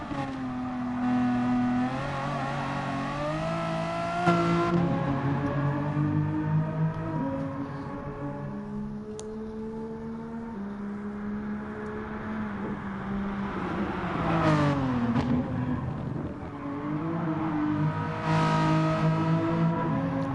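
Race car engine in Gran Turismo Sport revving steadily through gear changes, a loud continuous whine rising and falling as it drives a lap, alone without talk.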